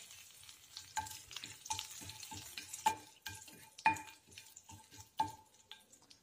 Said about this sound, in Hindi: और इसी के साथ डालते हैं हम कड़ी पत्ता